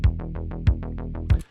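An 80s synthwave bass line pulses in rapid repeated notes, each with a quick decay, while a punchy kick drum lands on the beat three times beneath it, loud and upfront with no voices.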